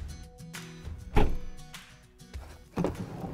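The sliding door of a 2014 Ford Tourneo Connect van rolls along its track and thuds shut, followed by another heavy clunk a moment later; no one speaks.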